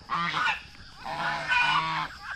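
Two farmyard geese honking at close range, a few loud, repeated nasal calls in quick succession.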